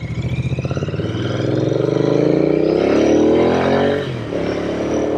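Royal Enfield Continental GT 650 twin-cylinder motorcycle being ridden, its engine thumping and rising steadily in pitch as it accelerates through a gear, loud and close, then dipping briefly at a shift before pulling again.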